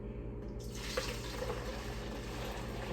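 Hot water from a boiling pot pours steadily into a bowl, a continuous close splashing stream that starts abruptly and keeps running without talk.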